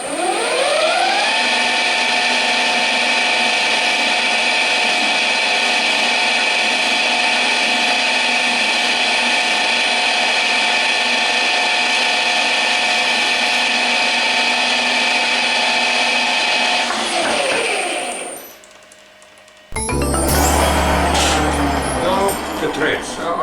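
A metal lathe runs with a drill chuck held in the tailstock, giving a loud, steady machine whine for a long stretch that winds down and stops, then a brief burst of clattering machine noise.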